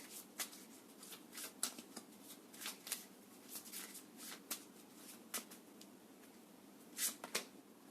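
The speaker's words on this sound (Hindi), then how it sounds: "इतने सारे कार्ड्स नहीं, फिर से मैं शफल करती हूँ।" Tarot cards being shuffled by hand, a steady run of crisp riffling and flicking bursts with a few louder snaps, close up and fairly quiet, with no talking.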